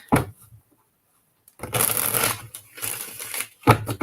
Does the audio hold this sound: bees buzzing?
no